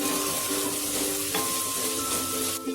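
Chhole masala sizzles in oil in a pan while being stirred, giving a steady close frying crackle with soft scraping throughout.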